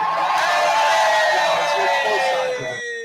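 At a Los Angeles Kings hockey game, the arena crowd gives a sustained, disappointed groan that swells and then slowly fades over a few seconds.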